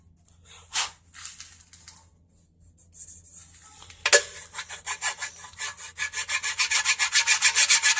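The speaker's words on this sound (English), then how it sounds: "You can see that's getting shiny from where I'm polishing on it." Hand polishing a paint run on car paint, a soft rhythmic rubbing that starts in a few scattered strokes, then settles into steady, quickening back-and-forth strokes growing louder close by, with no talking.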